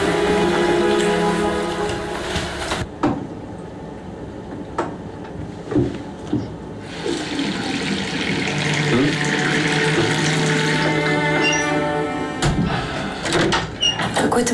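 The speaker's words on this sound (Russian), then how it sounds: "Я, кажется, в ванной кран сорвала, и может случиться потоп." Water gushes steadily from a broken bathroom tap in a continuous loud rush, broken by occasional knocks and thuds, with indistinct voices and movement around it.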